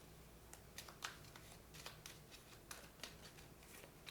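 Playing cards shuffled during a Commander card game, a faint series of soft riffling flutters and snaps repeating at an irregular rhythm against quiet background noise.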